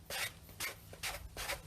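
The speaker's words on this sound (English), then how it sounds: "you'll see that it is just sanding off quite nicely" Sanding a decoupaged notebook by hand gives four rhythmic scratchy strokes, each a short gritty rasp separated by brief pauses, close and fairly quiet.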